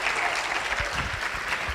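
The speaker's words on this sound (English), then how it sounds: "Can we have a round of applause for that, a loud one?" An audience at the first South African accessible tourism summit breaks into a burst of dense clapping that fills the hall evenly throughout.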